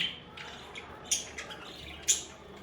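A few sharp, bright budgerigar chirps and squawks pop out at intervals against a quiet background on a rooftop bird farm, some close, others softer.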